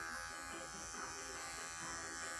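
A cordless clipper buzzes steadily and close as it trims the hair past the pads on a small dog's paw, its whine constant for the whole moment with no voices.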